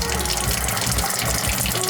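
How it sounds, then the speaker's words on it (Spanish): A kitchen tap pours cold filtered sparkling water in a strong, continuous gush, loud and close, with a hissing, fizzy quality throughout. "Si le doy otro clic, me va a salir agua fría, filtrada y además con gas."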